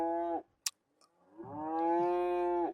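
Cattle bawling on a cold, snowy homestead morning at weaning: a loud, close moo, a pause, then a long drawn-out bellow, with no talk.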